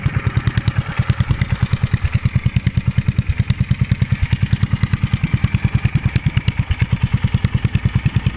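A three-wheeled finger-bar hay mower with an Acme VT88 petrol engine runs steadily nearby, its single-cylinder exhaust thumping in a fast even rhythm with a loud, clattering, unchanging beat.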